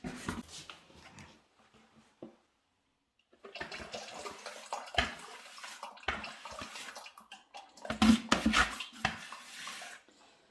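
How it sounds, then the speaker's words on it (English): A brush sloshes and scrapes through ceramic glaze in a bucket, wet brushing bursts starting and stopping irregularly, with a louder stretch of splashy stirring near the end; no voice. "what I need to do is use the brush and try mix that all in and then get it in the bucket below"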